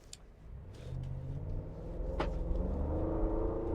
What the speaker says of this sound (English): So now let's test drive this car in comfort mode.